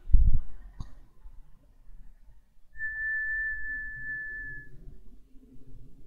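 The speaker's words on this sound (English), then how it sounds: "Now try whistle to the microphone." Someone whistles into a microphone, a single clear steady tone held for about two seconds in a quiet room, preceded by a few faint clicks and a brief thump.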